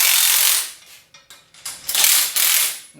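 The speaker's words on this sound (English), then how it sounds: "once it's in and settled, you can tighten these back up" A ratchet wrench tightens bolts during a Mow and Go Systems mower swing arm install, with loud clicking bursts at the start and again near the end, separated by quieter handling noises.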